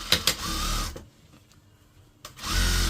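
Sewing machine stitching around the waistband of a churidar pajama, with a close, steady motor whir in two short bursts separated by a quiet pause with a few light clicks.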